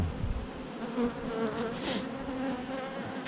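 A dense swarm of Caucasian honey bees hums around an open hive during an inspection in the Var, a close, continuous buzz with shifting pitch and no talking.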